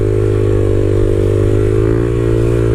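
Honda Grom motorcycle engine held at steady high revs through a wheelie, a loud, continuous droning buzz with slight pitch drift and no break, close up.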